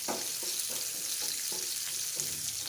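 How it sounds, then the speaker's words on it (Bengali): Chopped onion frying in oil for red lentil dal with jute leaves, a broad steady sizzle with soft periodic stirring scrapes, close and even. "দিয়ে দিব পেঁয়াজ কুচি।"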